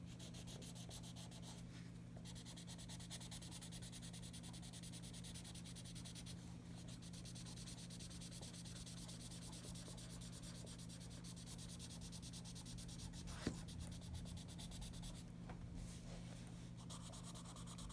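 Soft, steady rubbing of an Ohuhu alcohol marker tip over paper, blending colour in continuous faint strokes against a low constant hum, with no talking.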